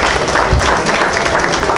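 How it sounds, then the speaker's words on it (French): Audience applause for poet Samara at a Haitian Kreyòl cultural night, a dense, loud wash of many hands clapping at once. "On applaudit encore une fois Samara"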